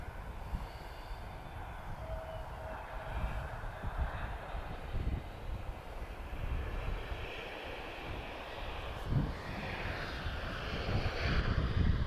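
An Emirates airliner arriving at Lisbon Airport, its engines a steady broadband roar heard from a distance, swelling slightly toward the end with no talk over it.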